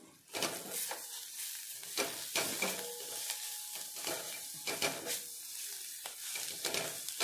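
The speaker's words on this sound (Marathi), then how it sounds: "आणि आता आपण इथे याला परत मिक्स करून घेऊ." Besan and chopped capsicum are mixed in a pan with repeated scraping, stirring strokes over a soft sizzle, making an uneven clattering rhythm that is close and moderately loud, with no voices.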